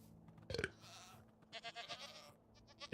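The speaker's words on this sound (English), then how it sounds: "Should I start milking the goats?" Goats bleat in a base-building video game, a short cluster of cries followed by a longer run of repeated bleats, fairly faint against a low background hum.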